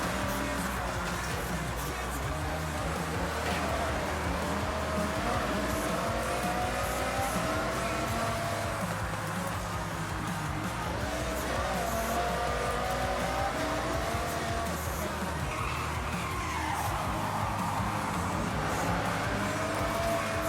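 American cars race in the Forza Horizon 6 video game with loud, sustained engine roar, repeated rising and falling revs as they accelerate and shift, and tire noise underneath throughout.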